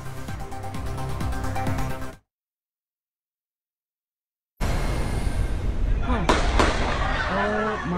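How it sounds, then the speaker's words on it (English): Rapid bursts of gunfire ring out during the Orlando nightclub shooting, loud sharp cracks mixed with voices and commotion, first in one stretch, then again after a short silence. "they're all shooting back and forth."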